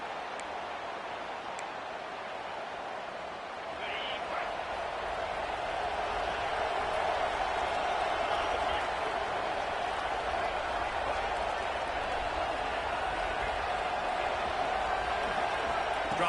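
Stadium crowd noise at a College Football 26 video game, a dense continuous roar that swells slightly and stays loud throughout, with commentary voices faintly mixed in.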